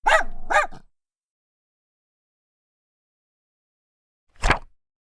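A mutt barking in a children's phonics story: two quick, loud barks close together, a long silence, then a single sharp bark.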